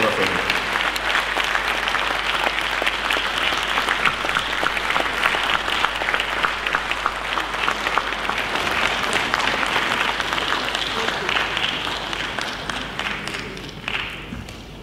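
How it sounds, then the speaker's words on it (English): A large conference audience at a formal opening applauds steadily, dense sustained clapping that fills the room for about fifteen seconds before tapering slightly near the end. "Let's keep the applause coming till he comes here."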